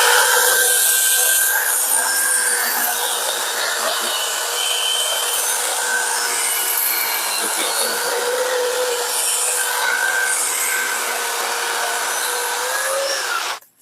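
A cordless chainsaw fitted with a standard gas-chainsaw bar of about six inches runs steadily and loudly, its high buzzing whine chewing through wood for over ten seconds before cutting off abruptly.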